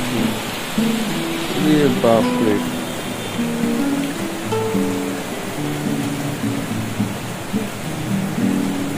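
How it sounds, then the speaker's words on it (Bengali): Heavy rain pours down in a continuous loud hiss outdoors. Someone exclaims and other people talk over the downpour, while low rumbles that may be thunder sit underneath. "বিভৎস বৃষ্টি, পুরো সাদা হয়ে গেছে বাইরেটা, এত বৃষ্টি নেমেছে"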